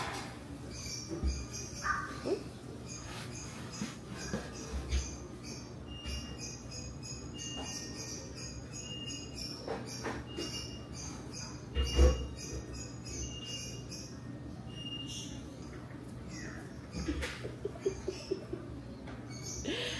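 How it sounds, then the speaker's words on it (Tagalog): Birds chirp outdoors with scattered, repeated high calls over a low, constant background hum and a few faint knocks, the birds moderately distant and fairly quiet. "Nakaka-relax yung mga ibon."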